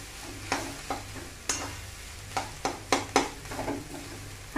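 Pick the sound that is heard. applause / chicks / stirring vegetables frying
stirring vegetables frying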